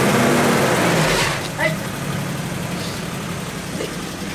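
A Suzuki Jimny JA11 engine idles steadily at close range after a climb test on a rough slope, with a low continuous rumble and people talking over it.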